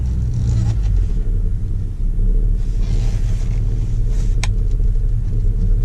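A large car pulls away with a steady, loud low engine rumble and road noise throughout, close by, with no talking.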